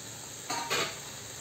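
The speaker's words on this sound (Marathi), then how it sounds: "आता ह्या सगळ्या भाज्या आपण या घातलेल्या मसाल्यावरती परतून घेऊया." Mixed vegetables sautéing in spice masala for a Goan-style mixed veg dish, a soft steady sizzle with two brief louder bursts of stirring and frying in the middle, no voices.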